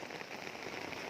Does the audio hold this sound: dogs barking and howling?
no